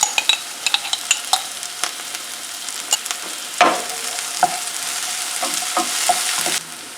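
Chopped onion and garlic frying in a pan, a steady close sizzle broken by scattered clicks and scrapes of a spoon stirring.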